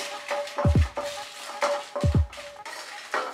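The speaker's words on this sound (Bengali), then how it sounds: "শুকনো কড়াইতে জাস্ট আমরা মিডিয়াম আঁচে প্রথমে শুকনো লঙ্কাটাকে ফ্রাই করে নেব 1 মিনিট" Dry red chillies are tossed and stirred in a dry pan over medium heat, giving a few clattering, scraping strokes in uneven bursts with quiet rustling between them.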